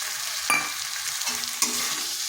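Washed masoor lentils are stirred into frying spices in a pan, a close sizzling hiss punctuated by two sharp scraping stir strokes, with no talk.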